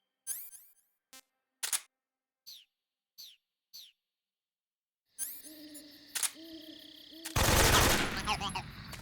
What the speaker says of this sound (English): Now I can shoot him.